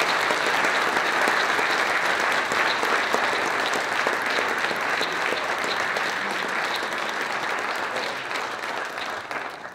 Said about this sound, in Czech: potlesk pro Mariana Fialu.